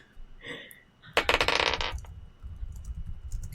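Dice rolled in a tabletop game: a short clatter of dice tumbling and rattling on a hard surface, loud and close, after a brief murmur of talk.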